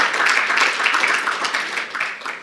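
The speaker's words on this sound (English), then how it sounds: "you can clap" An audience applauds a speech at the Conference of Presidents of Major American Jewish Organizations: a loud, dense burst of many hands clapping that fades slightly toward the end.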